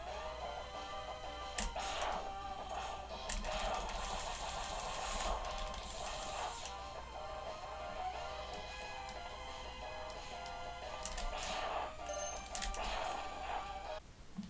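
The Mega Man X video game soundtrack plays faintly from a OneXPlayer 3 handheld as a quiet, repeating melodic pattern with steady rhythmic notes that carry on throughout.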